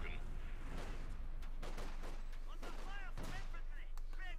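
Distant gunfire in a Company of Heroes 2 battle comes as scattered bursts of sharp shots over a constant low rumble, with faint chirping effects and a voice talking over it.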